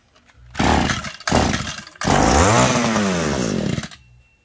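A small two-stroke engine on an Echo petrol drill sputters twice, then catches and revs loudly with a rising whine before cutting off.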